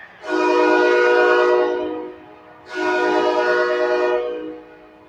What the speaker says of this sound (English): I want to hear the train horn.